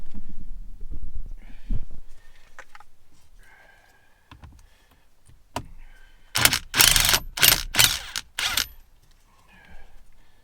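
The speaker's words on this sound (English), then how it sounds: "Next we're going to take out the bolt holding it in. It is a T50." Ratchet working a T50 bolt loose from a Ford F250 steering wheel, giving a burst of several sharp, loud clicking strokes in close succession after quieter handling noises.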